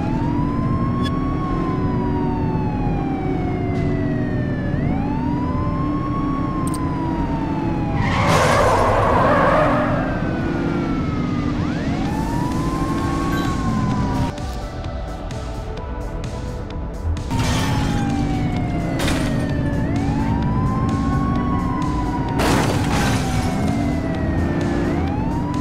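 Police car sirens wail repeatedly through a chase in the game The Precinct, rising and falling over a steady loud engine drone, with tire screeches and crashing bursts breaking in along the way.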